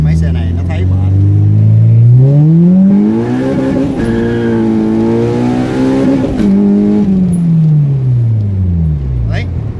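A Honda Civic EG with a K20A2 engine swap accelerates hard, its engine note climbing through the revs, dipping at a shift and rising again, loud and close.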